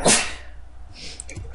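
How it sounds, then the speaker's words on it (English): A single loud, close sneeze bursts out at the start, then fades into quiet room noise with a faint knock or two. "you just sneezed in my face"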